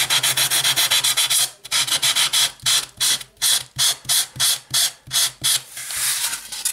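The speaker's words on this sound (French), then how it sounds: "ça se lime super bien hein, ce polystyrène là avec ces petites" Small hand files rasping back and forth on a polystyrene part for a 2CV Citroën model diorama, a loud, close, rhythmic series of gritty strokes that speeds into quick regular pulses.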